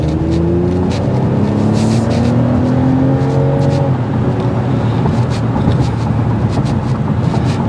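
A 2024 Toyota Camry TRD V6 engine revs loudly and climbs in pitch as it accelerates, holding a steady roar with no one talking.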